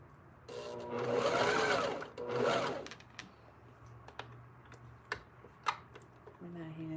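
A sewing machine runs in two quick whirring bursts, stopping briefly between them, and is followed by scattered light clicks and taps of handling nearby.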